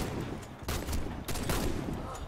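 Rapid gunfire in the Warface shooter game, sniper and rifle shots cracking in a dense, loud burst with no talk.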